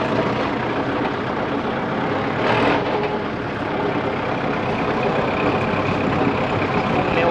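A 2022 Kubota L5018SP tractor with about 296 hours of use is test driven. Its engine drones steadily and loudly at close range throughout, with a brief swell partway through and no talking.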